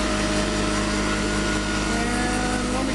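A modified imperial DC motor turns the crankshaft of a 10 kW generator at about 3,000 RPM under a 600-watt load, making a constant, dense mechanical hum and whine with steady tonal lines and no pauses.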